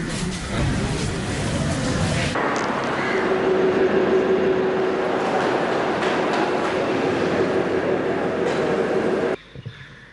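Trains at a railway station on the island during a strike, with a loud, steady rumble and clatter of rolling stock lasting several seconds, a long metallic squeal running through the middle, and a sudden drop near the end.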